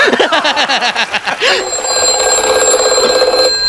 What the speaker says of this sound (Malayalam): ആരാ ഈ അസ്ഥാനത്ത് ഒരു ഫോൺ കോൾ